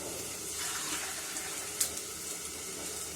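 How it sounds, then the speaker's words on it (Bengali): Water pours from a bowl into a pot of cooking rice, a soft continuous splashing trickle that is fairly quiet and steady, with one brief knock partway through and no voices. "আর একটা বাটি জল দিই"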